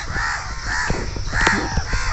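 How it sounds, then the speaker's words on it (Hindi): Several crows caw overhead on a path where fallen trees block the way, repeated harsh calls coming in a loose rhythm, loud and close, with no talking. "ऊपर देखिए कौवा बहुत कौ कर रहे हैं।"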